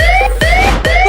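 An ambulance siren wails loudly and close, its rising tone repeating in three quick sweeps with no talk over it.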